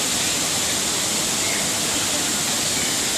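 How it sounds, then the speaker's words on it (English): Man-made waterfall at Jurong Bird Park, a loud, constant close-up roar of crashing water, steady and unbroken, with no talk. "And there is the waterfall."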